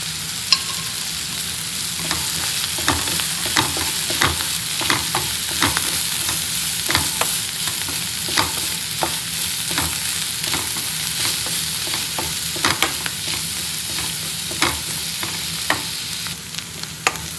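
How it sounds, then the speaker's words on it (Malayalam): Bitter gourd thoran sizzles steadily in a hot pan while a spoon scrapes and stirs it at a regular pace, producing repeated sharp clicks over a continuous frying hiss. "ഇതൊന്നുകൂടി നന്നായിട്ട് വഴറ്റാനുണ്ട്"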